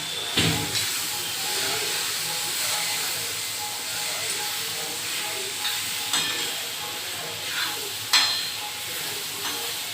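Grated coconut roasting in a pan for a Kokani prawn curry, a steady dry sizzle and hiss with occasional scraping stir clicks, close and continuous with no talk.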